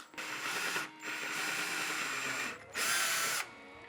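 A power drill fitted with a brad point bit bores pilot holes through pine for a guitar body, whining loudly and close in three sustained runs with short pauses between them.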